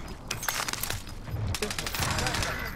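Rapid gunfire bursts rattle through a Call of Duty: Modern Warfare match, dense and loud across the whole stretch, with a voice talking over the shots.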